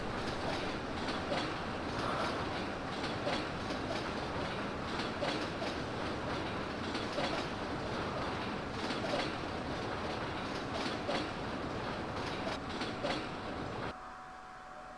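A train rolls along rails in the video game Rule the Rail, a steady rumbling run with rhythmic clickety-clack wheel beats throughout, fairly quiet and without talk, before the noise drops away at the very end.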